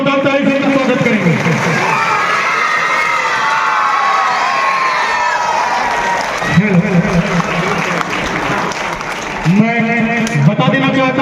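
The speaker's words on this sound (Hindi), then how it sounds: "उन्हें एक बार जोरदार ताली से स्वागत करेंगे।" Loud, sustained clapping and cheering from the audience at a school honouring ceremony, with shouting children. A voice speaks over the crowd near the start and end.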